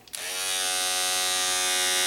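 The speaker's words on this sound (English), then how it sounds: "This is just a little electric Norelco shaver" A small Norelco electric shaver clicks on and settles into a steady, close, high buzzing hum that holds evenly for about two seconds, with no voices.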